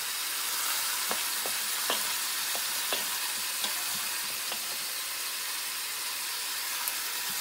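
Pork and liver for Ilocano igado sauté in a hot pan, giving a steady, soft sizzle dotted with light clicks from stirring. The sound stays fairly quiet throughout, with no talking.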